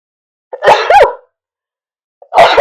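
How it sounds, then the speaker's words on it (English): Two quick sneezes burst out close together, followed after a pause by a third sneeze, loud and near. "Goodness, three sneezes."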